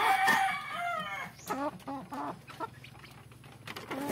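Several chickens cluck and crow nearby, overlapping calls with a rooster's crow early on, continuing steadily throughout.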